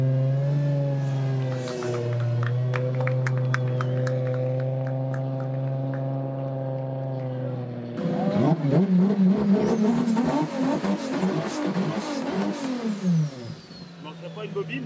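A drift race car slides through a corner at a drift competition round, its engine droning steadily before breaking into rough, loud revving and tire noise.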